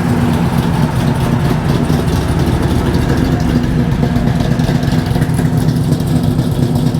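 A modified 440 engine in a 1962 Plymouth Savoy idles steadily with a deep, rough, lopey rumble, loud and close, with no talking.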